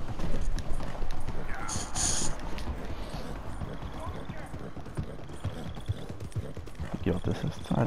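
Horse hooves clip-clop steadily in Red Dead Redemption 2, a continuous trotting rhythm close by, with a person talking over the game sound.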